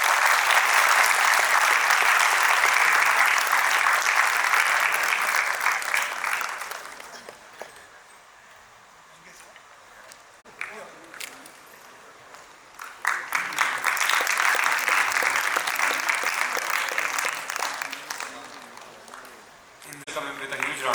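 Two bursts of steady audience applause fill a hall at an inauguration and felicitation program, each lasting several seconds with a quieter gap between them where speech is faintly heard.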